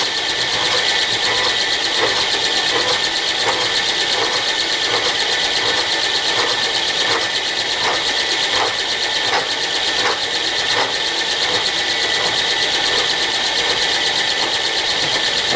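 A metal-cutting machine tool runs with its cutter engaged, cutting about twenty thousandths per second: a steady, loud mechanical drone with a faint regular ticking pulse that repeats roughly once a second throughout.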